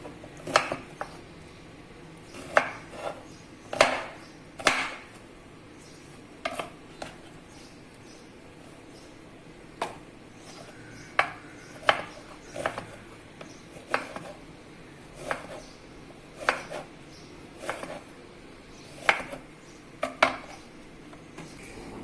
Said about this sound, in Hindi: ये सबकी डंडियां हमने काट दी हैं। अभी हम इनको काटेंगे। हम इस तरह लेंगे, स्लाइस करेंगे।